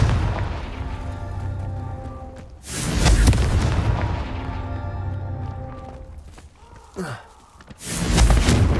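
The Confringo blast spell fires in Hogwarts Legacy on PS5, with booming explosive bursts over a droning game soundtrack and a brief whooshing swoop between them.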